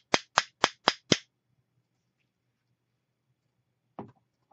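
A lightweight vintage German pewter soup ladle of soft metal is tapped five times in quick, evenly spaced succession. Each tap is a sharp, dull knock, followed by quiet and then a brief bit of talking.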